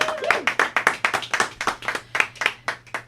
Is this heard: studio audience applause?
yes